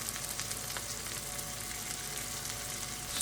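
Onions and smash-burger meatballs sizzling in a hot pan, a steady close hiss of frying that runs unbroken throughout.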